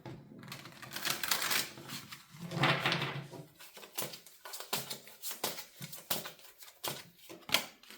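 Tarot cards being shuffled and drawn by hand, with dense papery riffling followed by a run of separate soft slaps and flicks as cards are laid down one after another, close and fairly quiet, with no talking.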